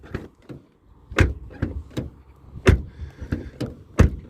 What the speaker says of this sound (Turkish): kapı sesi bence gayet güzel